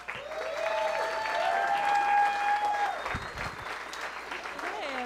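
A comedy show audience breaks into sustained applause and cheering for the next comedian, with steady clapping that holds for several seconds and then thins as a voice starts up.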